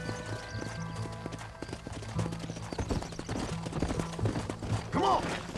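Horses gallop in the Red Dead Redemption video game, their hooves clip-clopping continuously beside a wagon train. Shouting voices and music play over the hoofbeats, and a horse whinnies near the end.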